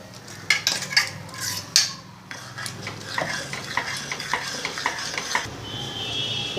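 Ground paste being stirred into cooked brinjal kootu in a metal pot, a few sharp spoon clanks against the rim at first, then a steady wet stirring with a faint simmer underneath.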